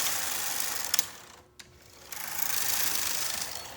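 A domestic knitting machine carriage knits a circle of draw thread, making a close, continuous whirring rattle with a couple of sharp clicks, a brief quiet pause in the middle, then the run resumes.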